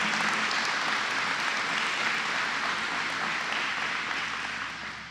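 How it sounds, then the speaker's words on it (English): Sustained applause from an audience at a press event announcing the Greater Rochester International Airport transformation, a dense, steady wash of clapping that holds for several seconds before slowly tapering off. "Let's give her a round of applause, and the whole airport management team."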